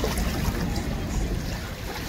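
Steady wash of water and a low engine rumble as a Canadian police patrol boat moves on the water near a marina at Port Credit, continuous and moderately distant.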